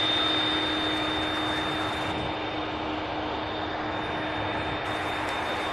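An American Airlines plane taxiing at Louisville's SDF airport sends out a continuous, fairly quiet whine of engine noise over a hiss, with steady tones and no talking.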